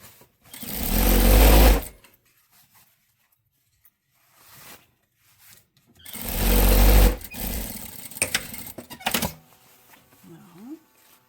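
A sewing machine runs a blouse seam in two loud bursts of rapid stitching, each lasting a couple of seconds, separated by quiet pauses with faint handling clicks, close to the listener.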